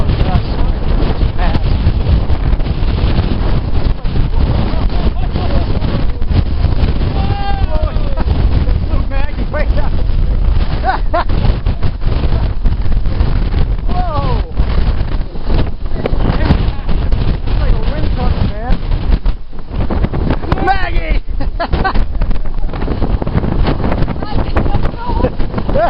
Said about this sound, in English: this wind all of a sudden like